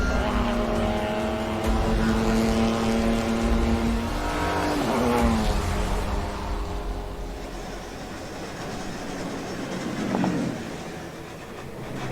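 A car engine in a GTA video game revs and roars continuously over bumpy ground, its pitch rising and falling with rattling mechanical noise before fading somewhat.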